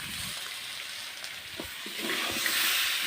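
Crab stir-fried in a pan for a crab curry, giving a steady bright sizzle and hiss close up that swells louder toward the end, with no talk.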